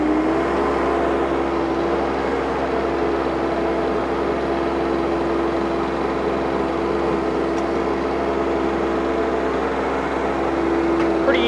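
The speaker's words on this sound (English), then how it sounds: "We'll throttle it up, give it a little bit more power here." Kioti CS2220/CS2520 sub-compact tractor engine throttled up from idle, a steady, loud, continuous drone with a constant hum that holds evenly throughout.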